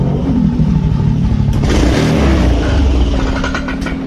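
A Suzuki Satria 2T two-stroke motorcycle engine runs loud and close, revving up with a rough buzzing roar and a rattling clatter before it falters and fades toward stalling.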